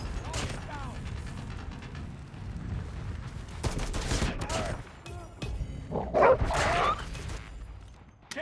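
A K9 attack dog in the Call of Duty Mobile video game barks and yips amid bursts of gunfire and explosions, loud and close, with game sounds layered throughout.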